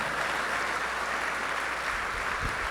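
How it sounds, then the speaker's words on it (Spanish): Congregation applauding at a church service, a steady wash of clapping from many hands, sustained and fairly even, with a low thump near the end. "Alguien le dé el aplauso al Señor"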